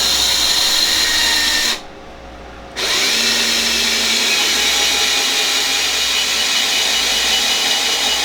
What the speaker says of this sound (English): I got all kinds of drills over there and I'm using this one